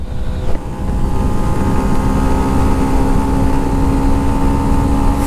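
A Yamaha FZS Hybrid motorcycle accelerating through gears on a test ride, its engine a loud steady drone with strong wind rush, pitch holding high after a brief shift near the start.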